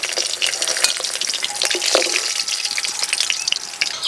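Desi rohu fish frying in hot oil gives a dense, steady crackling sizzle with scattered sharp pops and spatters throughout, close and fairly loud, with no voices.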